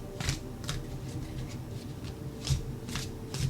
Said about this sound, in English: I have the hardest time shuffling this deck in round decks.